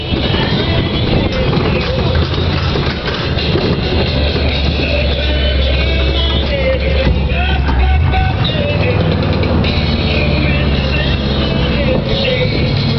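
A 1975 Ford Bronco with a 351W V8, NP435 transmission and Dana 20 transfer case rumbles along at low speed in fourth gear, its engine droning loudly and steadily while a voice talks over it.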